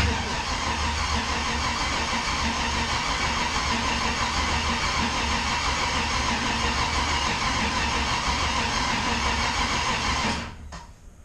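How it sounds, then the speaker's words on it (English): An LS engine swapped into a Mustang cranking steadily on the starter, a loud continuous rhythmic churning that drops off abruptly near the end. "We could go all day on the starter"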